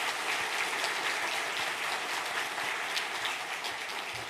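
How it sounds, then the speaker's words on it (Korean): Congregation applauding during a Sunday church worship service to welcome visiting guests, a steady dense wash of clapping filling the whole stretch at moderate level, with no talk over it. "우리 VIP 여러분들을 우리 뜨거운 박수로 환영하겠습니다"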